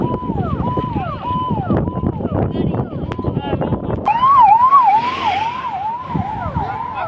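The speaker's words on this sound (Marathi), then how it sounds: "अग्निशमन दलाची गाडी या ठिकाणी पोहोचलेली आहे" A fire engine siren wails in a rising and falling cycle over traffic rumble, growing louder and closer partway through, arriving at a burning bus on a road.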